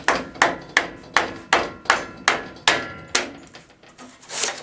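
Hammer tapping to break a part apart during the teardown of a 1961 Cushman Truckster, about nine sharp, close metallic strikes in a steady rhythm, alone without talk.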